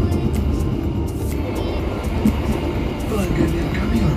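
Logawa passenger train, business class, running between Purwokerto and Jember, heard from inside as a steady low rumble and rattle of the carriage with faint clanks, continuous and fairly loud throughout.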